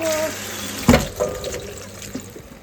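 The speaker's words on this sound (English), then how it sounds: "It's now all the Brussels sprouts, so they're going to go in for a wash." Brussels sprouts being washed under a running kitchen tap in a farmhouse, a steady close stream of water with a brief splash burst, with faint background voices.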